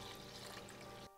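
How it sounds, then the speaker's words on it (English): Pickle brine is poured into a measuring cup during home canning, a brief steady splashing pour, close and clear, that stops abruptly after about a second. "I'm gonna transfer the brine in a few batches into my measuring cup here, and then I'm gonna pour it from there"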